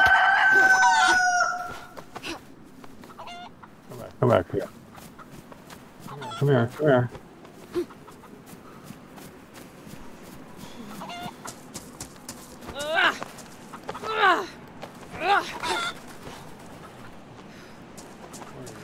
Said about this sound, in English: Hey, chicken.